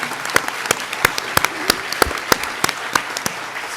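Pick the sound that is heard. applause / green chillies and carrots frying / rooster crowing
applause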